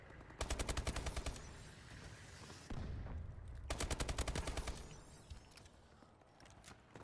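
Rapid automatic gunfire from the video game Advanced Warfare, two loud sustained bursts with a broad crackle, then fainter scattered shots and game noise.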